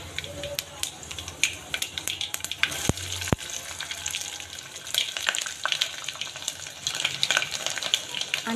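Dal and vegetables sizzling in hot tempering oil, a steady frying hiss scattered with sharp crackles and pops that carries on for several seconds.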